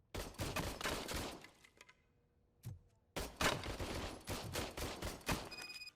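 An old service pistol fires in the RoboCop: Rogue City game, loud repeated shots in rapid bursts with a short quiet gap midway, echoing around the firing area.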